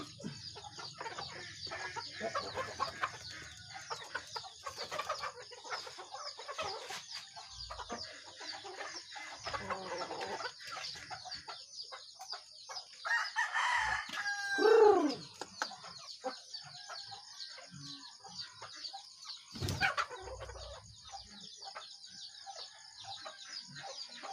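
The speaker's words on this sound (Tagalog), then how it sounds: "yung ating pinapakain na mga manok natin guys" Native chickens at feeding time cluck and coo steadily, with bird calls layered throughout and a louder rooster-like burst near the middle, all close by and without talk.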